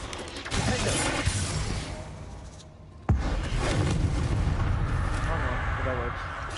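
Bombarda and Confringo spell blasts in Hogwarts Legacy, loud bursting explosions with a sharp crack near the middle, set against ongoing combat noise and a voice speaking.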